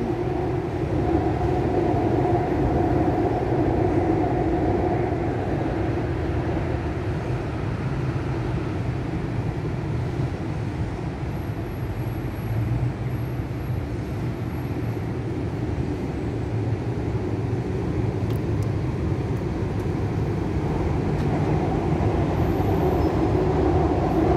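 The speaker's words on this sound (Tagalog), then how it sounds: "Yan po yung train." A train rolls past near the Philippine Embassy in Bangkok, a steady, loud rumble of wheels and carriages that holds evenly for the whole stretch, with no voices over it.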